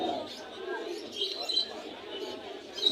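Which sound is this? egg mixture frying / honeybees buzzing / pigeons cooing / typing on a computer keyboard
pigeons cooing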